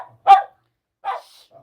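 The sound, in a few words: dog barking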